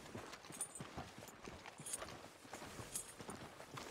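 Irregular hollow clip-clop of horse hooves on a hard surface in the video game Red Dead Redemption 2, moderately close, with soft background ambience and no talking.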